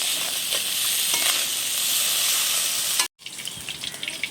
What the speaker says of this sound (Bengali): পেঁয়াজ কাঁচা লঙ্কাটা দিয়ে এবারে খুব সুন্দর করে ভেজে নেব লাল করে